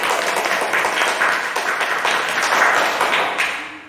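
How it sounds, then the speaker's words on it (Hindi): Loud applause from a church congregation during a service, a full, sustained roar of clapping that swells slightly and then fades toward the end, with no talk over it. "अपने परमेश्वर का जोरदार तालियों से स्वागत करते हैं।"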